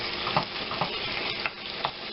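Meat cooking in a pan sizzles steadily and close by, with a few louder spits and stirring knocks spread through the continuous hiss and no one talking.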